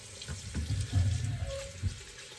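Tap water running into a bathroom sink for a rinse after a shave with an adjustable safety razor, a steady close splashing flow with a few louder gushes, no voices.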